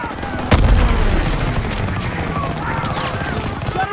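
Dense gunfire and booming explosions rage continuously in a Call of Duty WW2 battle at the Rhine, with a heavy blast near the start and sustained volleys throughout, while shouted voices cut in over the combat.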